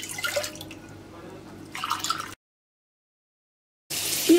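A cup of water is poured into a pot of milk while making chocolate sauce for a tray cake, heard as two short splashy bursts of pouring separated by a silent gap.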